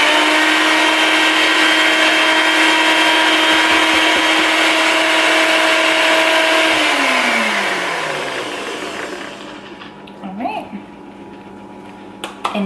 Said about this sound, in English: put the top back on, and continue to mix this